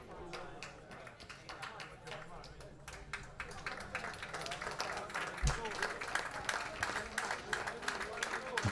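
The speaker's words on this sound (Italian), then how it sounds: "Applausi anche per Keita" Applause from a football crowd at an Orvietana versus Ellera match as the substituted player Keita leaves the pitch, steady scattered clapping throughout under a commentator's voice.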